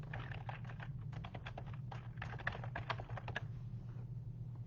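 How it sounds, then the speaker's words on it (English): Fingers type on a computer keyboard, producing a rapid, uneven run of close, crisp key clicks over a low steady hum, then trailing off into quieter taps. "So let's type it in here."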